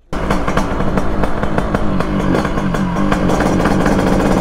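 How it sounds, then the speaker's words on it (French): A Yamaha DT 100cc two-stroke motorcycle runs loud and close in a village, its harsh buzzing engine note rising and falling with throttle blips, with no talk. "Comment tu veux ne pas faire de bruit avec un moteur comme ça frérot?"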